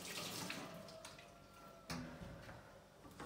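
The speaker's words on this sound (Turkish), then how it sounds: "Şöyle ellerimi ben sudan geçireceğim." Hands rinsed under a running kitchen tap, a close, steady wash of water lasting a few seconds with splashy surges as the hands move through the stream.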